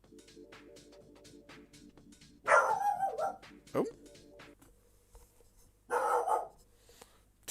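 A pet dog barks at the front door of a home in two loud, separate volleys, with faint music playing in the background and a brief voice between the barks.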